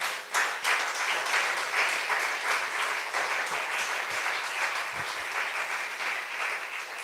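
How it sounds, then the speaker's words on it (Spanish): A church congregation applauds together, a steady wash of many hands clapping that fills the room for several seconds without pause. "Dele un aplauso al Señor."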